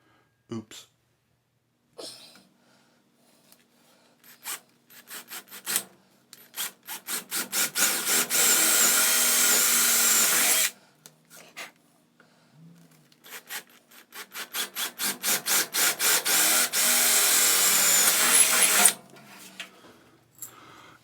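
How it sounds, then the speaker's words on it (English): A power drill bores mounting holes for the vertical pieces of a garage strut shelf. Short starting bursts build into two long, steady, loud drilling runs separated by a pause, with rattling handling sounds between them. "I'm drilling holes to mount the vertical portions"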